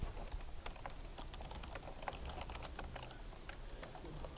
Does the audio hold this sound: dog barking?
no